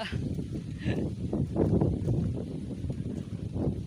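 Steady wind gusting and buffeting the microphone outdoors in hot weather in Indonesia, a continuous rushing roar with no break.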